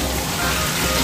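Chicken frying in hot oil in a home kitchen gives a dense, steady sizzle and crackle, close and continuous for a brief moment.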